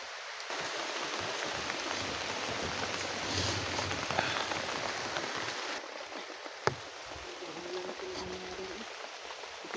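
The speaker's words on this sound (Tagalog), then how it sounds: "Lakas ng ulan tol." Heavy rain pours in a constant dense hiss, fairly faint and distant, with a couple of small knocks and no speech over it.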